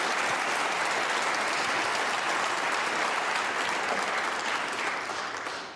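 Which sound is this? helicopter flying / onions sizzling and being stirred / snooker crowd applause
snooker crowd applause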